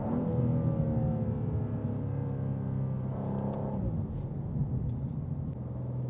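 A 2024 BMW M2 G87 engine pulling hard through first and second gear, a steady deep rumble with a rising drone and a shift-like dip midway, heard from inside the car with no talking.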